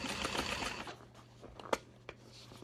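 A sewing machine back stitches through a handbag in a short opening burst, then fades to quieter handling noises with a couple of sharp clicks.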